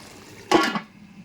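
A lid set onto a cooking pot of chicken sinampalukan gives one short metallic clank and rattle, close and fairly crisp, then a brief settling ring before quiet.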